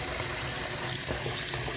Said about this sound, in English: Always wash your rice until that water runs clear.